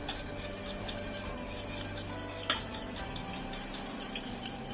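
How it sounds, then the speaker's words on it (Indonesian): A spoon works through choux pastry dough in a pan after margarine is added, giving soft scraping and rubbing strokes close by, fairly quiet, with one sharper knock partway through and no voices. "Kemudian kita aduk sampai rata."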